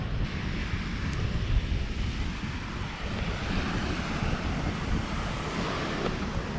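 Sea waves wash onto a beach in Crete, a steady broad roar of surf with wind buffeting the microphone throughout, fairly close and continuous with no voices.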